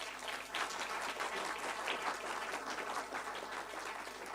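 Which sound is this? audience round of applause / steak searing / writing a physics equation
audience round of applause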